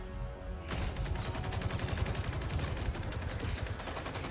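Dense, continuous automatic gunfire bursts out in a Mortal Kombat 11 scene after a brief quieter lead-in, loud rapid shots layered into a sustained volley with no voices.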